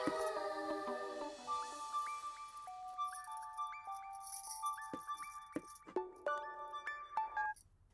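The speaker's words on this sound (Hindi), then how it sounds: "रिंग बज रही है" A phone's melodic ringtone plays a stepped series of bright electronic tones, fairly faint, with light clinks and rattles in the background.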